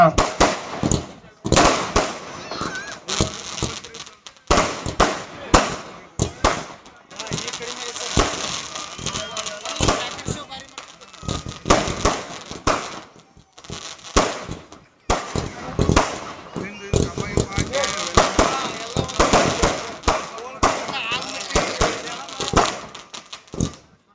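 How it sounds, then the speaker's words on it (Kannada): Fireworks and firecrackers go off at the closing ceremony of a district police annual sports meet, a dense, continuous barrage of sharp cracks and bursts close by, with voices in the crowd mixed in. "ಅದ್ದೂರಿಯಾಗಿ ಜರುಗಿರುವಂತಹ ಕ್ರೀಡೋತ್ಸವಕ್ಕೆ ಪಟಾಕಿಗಳಿಂದ ತೆರೆ"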